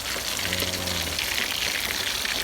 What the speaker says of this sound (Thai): หมูชุบแป้งทอดนะครับ หรือว่าลาบทอดครับนี่